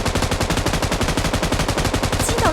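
A 3x-scoped M249 light machine gun sprays continuous automatic fire in a battle royale shooter, a loud, steady, rapid stream of shots running the whole stretch with a faint ringing tone near the end.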